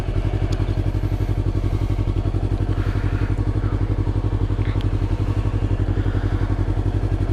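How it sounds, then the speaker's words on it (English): A Yamaha R3 motorcycle engine runs at a steady, rhythmic idle after starting, with even pulsing exhaust beats close by and faint clatter in the background. "Start the bike up again."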